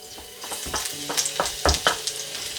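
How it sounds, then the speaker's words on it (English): Garlic sizzling in hot sesame oil in a pan, a close, bright crackle punctuated by scraping stirs and small pops. "I've got some sesame oil in the pan. Once your pan is heated, add your garlic"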